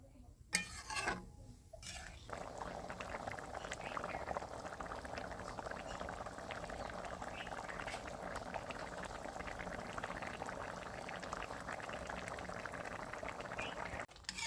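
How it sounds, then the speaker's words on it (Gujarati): Milk boiling down for papaya halwa in a village kitchen, a steady bubbling simmer that runs on evenly after a brief clatter of pouring at the start, no talking. "દૂધમાંથી જે કે પાણી છે આપણે પાણી બળી જવા દઈશું"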